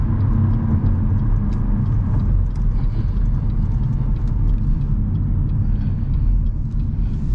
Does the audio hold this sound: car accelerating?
yes